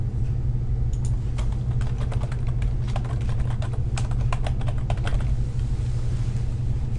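Rapid keystrokes on a computer keyboard, clustered in irregular bursts of clicks over a steady low hum, heard close and alone.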